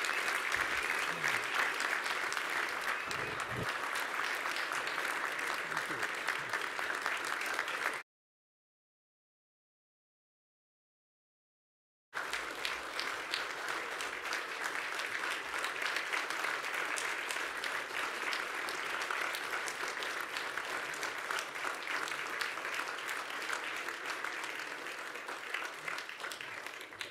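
A large audience at a Chamber of Commerce awards ceremony claps steadily for a long stretch, dense and even applause that cuts to silence briefly partway through, then resumes.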